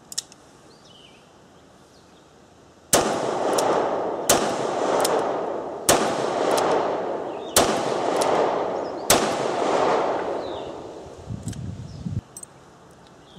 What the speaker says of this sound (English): .357 Magnum. Have 38 specials loaded in it now. We'll shoot this both ways, both single action at first